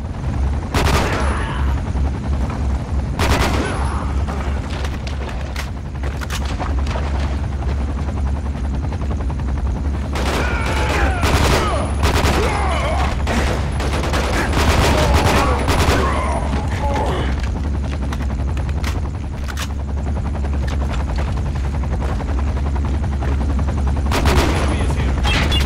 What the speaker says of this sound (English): I think this right here might actually be our first real firefight we've actually had this game